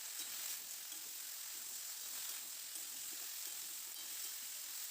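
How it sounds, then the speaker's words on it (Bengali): Potatoes and flat beans fry together in a pan, giving off a steady, even sizzle with faint stirring scrapes underneath for the whole stretch. "এবার শিমটা আলুর সঙ্গে খুব ভালো করে কয়েক মিনিট নাড়াচাড়া করে একটু ভাজা ভাজা করে নেব।"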